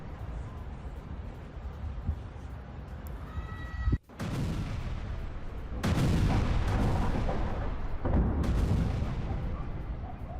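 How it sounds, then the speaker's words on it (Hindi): Missile strikes by the Israeli air force hit Beirut, producing a sharp blast followed by heavy rolling booms and sustained roaring rumble, loud and continuous with further thuds. "बेरूत के 10 इलाकों में सुने गए धमाके।"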